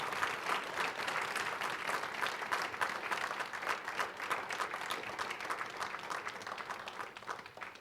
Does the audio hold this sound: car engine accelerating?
no